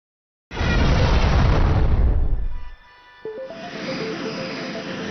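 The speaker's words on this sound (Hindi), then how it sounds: "उनमें विस्फोट हुआ?" A loud, rumbling cartoon explosion bursts out and roars for a couple of seconds before fading, followed by a lower sustained hum with a rising tone.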